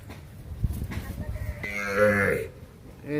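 A six-month-old Brahman heifer calf gives one drawn-out moo close by, over a low rumbling background.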